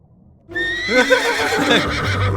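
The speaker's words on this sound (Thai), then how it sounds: "ขี่ม้าบนเรือดำน้ำ" A horse in a Roblox submarine game gives a loud, close whinny that starts abruptly, with the neigh's wavering pitch carrying for about two seconds and no speech over it.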